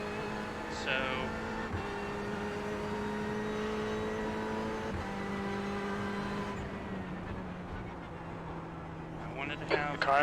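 In a racing video game, a race car pulls out of the pits with a steady engine drone that shifts in pitch as it accelerates. A voice talks over it at moderate level.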